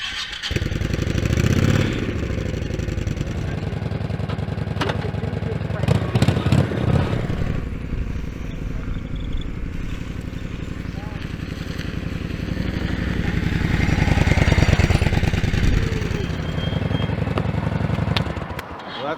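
A motorcycle that had been breaking down and popping runs steadily nearby, with its engine note rising and falling. People talk over the engine.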